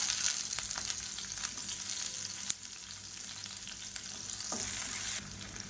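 Garlic, ginger and onion frying in a pan for chutney: a continuous soft sizzle and crackle with occasional stirring scrapes and one sharp tap, fairly quiet and without voices.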